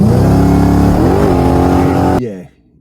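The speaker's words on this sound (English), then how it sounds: "I took the VF out to some private properties and we tested out that trans brake." A Holden VF with a T400 transmission revving hard against a trans brake, a loud sustained engine roar with shifting harmonic pitch that cuts off abruptly near the end, leaving a brief fading tail.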